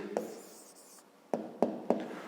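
A pen writes an answer on paper during a fifth-grade maths exercise, giving a soft scratchy stroke followed by three short, distinct taps or strokes close by, with no talking.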